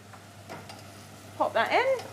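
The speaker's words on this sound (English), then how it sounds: "you can hear the onion starting to sizzle away in the background there as it's sauteing off" Onion sautéing in a pan, garlic soon added, gives a low, steady sizzle in the background; a voice briefly breaks in near the end.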